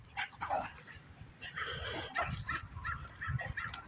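Small leashed dog barking and yipping in quick excited bursts nearby, sharp high yaps mixed with whiny yips, fairly close and clear with no talking over it.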